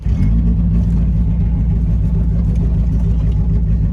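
The engine of a 1987 Dodge Colt Vista 4X4 makes a loud, continuous low rumbling drone at close range, with no clear pauses.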